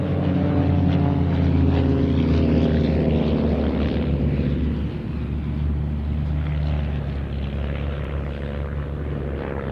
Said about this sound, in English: Now we have 4 aircraft back in formation